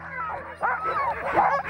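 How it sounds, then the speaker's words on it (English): Sled dogs in Svalbard, resting at a short stop, give a brief burst of eager yips, whines and whimpers close by, keen to run again. "they started barking and wanted to go running again"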